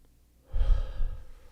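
A single deep breathwork inhale, close and breathy, starts after a brief quiet moment and swells to a full, airy draw of breath before tapering off at the end.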